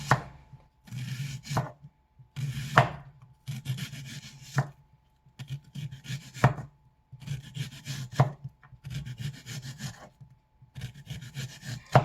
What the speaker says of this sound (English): So let's go ahead and slice this up.